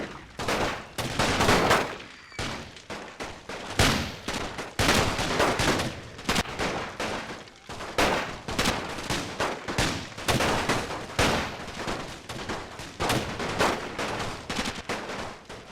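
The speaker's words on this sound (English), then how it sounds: "And the rifle infantry firing away" Rifle infantry fire in a Total War World War One siege battle game: dense, rolling volleys of gunshots crack repeatedly in overlapping bursts, loud and continuous with brief lulls between salvos.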